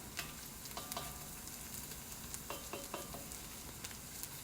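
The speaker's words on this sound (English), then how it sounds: "So we're going to put this garlic right in." Garlic fries in a pan for fried rice with shrimp and Chinese sausage, giving a soft, steady sizzle broken by a few quick stirring scrapes; the sound is faint and close, with no voices.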